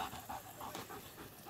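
A dog pants hard in summer heat, rapid steady huffs repeating close by throughout with no voices.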